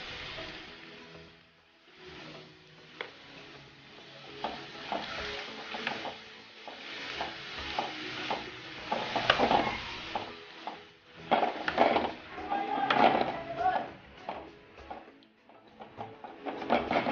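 Shredded cabbage with salt being stirred in a pan for an Onam cabbage thoran, soft irregular scraping and rustling strokes with light sizzling, fairly quiet and close, no talking.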